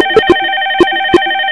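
A softphone ringtone sounds during a test call on a Trixbox PBX setup: a steady electronic tone with short, regular beeping pulses, loud and close, with no voices.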